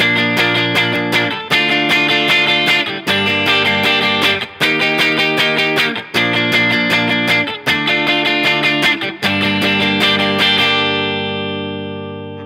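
Electric guitar plays the chorus of a song with full, open strums and no palm muting, a steady driving pattern ending on a chord that rings out, no talking.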